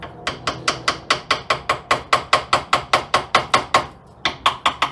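Light, rhythmic hammer taps, about twenty sharp evenly spaced strikes with a brief pause near the end, the hammer falling under its own weight during work on a 1936 Chevy coupe; close and fairly loud, no talking.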